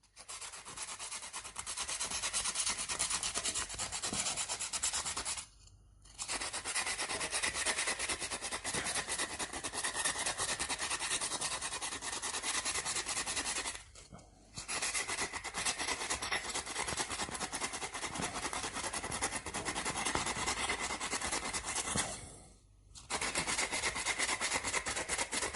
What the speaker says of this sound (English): We're going to clean them now, with a bit of sandpaper.